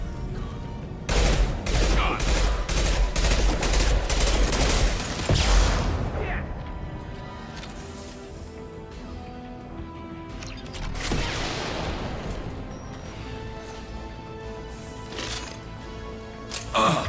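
Sustained gunfire from the video game Mass Effect, dense bursts of shots and impacts through the first several seconds, then scattered shots and game effects continuing under music-like tones.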